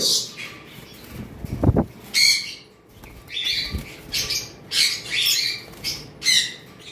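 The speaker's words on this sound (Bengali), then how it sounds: "এখানে দেখতে পাচ্ছেন পাইনাপেল কোনর রয়েছে" Pineapple conures squawk in repeated harsh bursts at close range, with short chirps and a brief low thump between calls.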